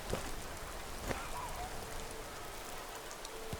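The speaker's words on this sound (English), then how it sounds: "Let's try to clear up the rain." Steady rain in the Skyrim video game, a continuous dense patter of drops on surfaces with a few slightly louder splashes, even and unbroken throughout.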